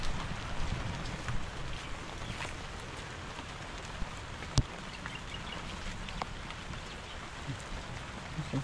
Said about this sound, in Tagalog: Tuloy-tuloy pa rin yung pag-ulan mga katros.